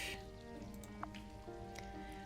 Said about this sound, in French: Cette légère averse devrait nous aider avec de l'eau supplémentaire.